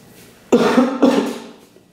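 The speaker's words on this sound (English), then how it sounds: "Oh, I can't with me coughing." A woman coughs twice in quick succession indoors while touring her New Jersey apartment, two sharp, close bursts with a brief rasp trailing off.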